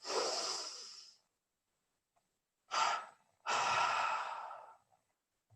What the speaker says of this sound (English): Let's do this now, double breathing in and tensing the body.